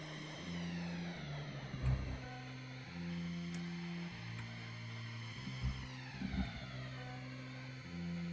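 Futuristic racing machines in the F-Zero video game, a steady synthetic engine drone with shifting pitch, a few louder bursts, no talk.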